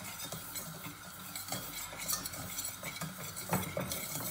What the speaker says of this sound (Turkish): Şimdi 3 kaşık tarhanamızı attık. Bunu kavurmaya başlıyoruz.